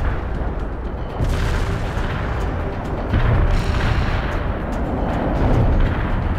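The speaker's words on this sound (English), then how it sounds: "Coordinates received. Artillery firing." Artillery barrage in the video game World in Conflict, a continuous rumbling roar of heavy booms with stronger impacts swelling at intervals, loud and dense with no voices.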